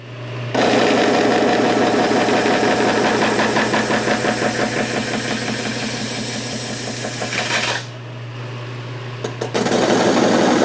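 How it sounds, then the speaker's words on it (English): A lathe spins a homemade cymbal blank as material is removed, a loud steady mechanical whir with rhythmic ripple that runs nearly eight seconds, drops briefly with a few clicks, then resumes. "you can do all kinds of stuff on the lathe"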